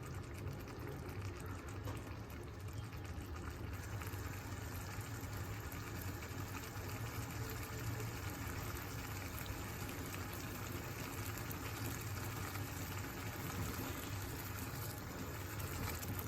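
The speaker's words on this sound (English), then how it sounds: "It started boiling." A pot of misal curry bubbles and simmers steadily, a constant low gurgling and hiss throughout, close and fairly quiet with no talking.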